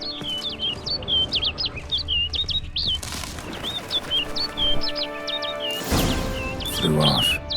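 A bird in The Witcher 3: Blood and Wine gives a steady series of short, bright chirping calls, with wing flaps and rustling in between and a louder flurry near the end.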